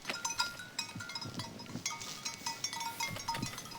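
Goats grazing by a riverbank bleat repeatedly in short, scattered calls, some near and some farther off, over soft outdoor background noise.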